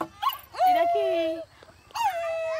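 A person imitates a small dog with short yips and whimpering barks, three close vocal bursts with a gap before the last, and a brief spoken question near the start.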